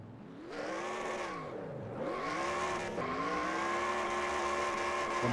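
Race car engines rev hard in the NR2003 racing game during post-race burnouts after an ARCA event at Atlanta, pitches swooping up and down in repeated surges with a steady tire-and-engine roar building toward the end.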